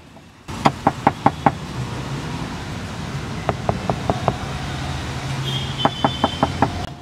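Sharp knocks on the body panel of a Toyota Taisor car fitted with double-layer damping, heard close up in three quick bursts of about five raps each, over a steady low background hum.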